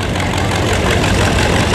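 An antique 1951 Farmall C tractor engine runs at a steady idle outdoors at a festival, a loud, continuous, close-up mechanical chug with no talking.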